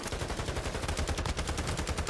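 Sustained automatic gunfire in the video game Warzone 2, a dense, continuous rattle of rapid shots that stays loud throughout with no talk over it.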